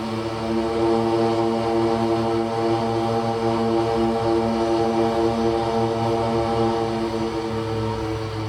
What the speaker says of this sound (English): Bit of a rubbish takeoff, but we'll survive.